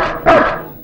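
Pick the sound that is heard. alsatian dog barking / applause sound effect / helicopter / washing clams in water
alsatian dog barking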